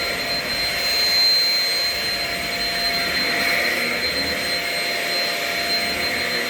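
A Shark Rocket vacuum cleaner runs steadily and loudly at close range, a continuous whining motor roar with a high tonal whistle, holding even for several seconds with no talking.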